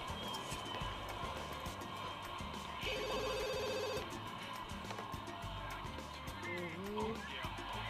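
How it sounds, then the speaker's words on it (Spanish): Telephone ringing in The Sims 2, a synthetic electronic ring lasting about a second amid game background sounds and car-like engine noise, with a voice talking over it. "contesta el teléfono"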